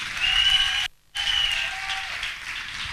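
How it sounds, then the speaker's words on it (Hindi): Audience applause at a dance workshop grand finale in Surat after a performance, a broad wash of clapping that briefly cuts out before resuming, with a thin high whistle-like tone riding over it. "जोरदार तालियां इनके लिए"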